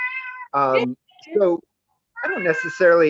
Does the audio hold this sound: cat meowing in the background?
yes